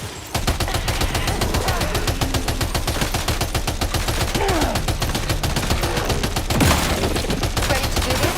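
Rapid sustained automatic gunfire in the Death Stranding 2 video game, a dense loud burst of shots running continuously for several seconds with a sharp heavier blast near the end.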